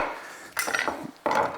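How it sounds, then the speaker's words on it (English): A knife cuts through a tomato held on a fork, giving two short scraping, crunchy slicing strokes with faint metallic cutlery contact, close and quiet with no talking. "take a tomato, stick a fork in it, and then take a knife and cut along"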